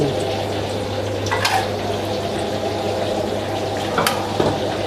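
Cooking oil is poured into a hot pan for stir-fried wide rice noodles with pork, giving a steady low hiss and sizzle with a couple of brief liquid splashes, close and fairly loud, with no talking.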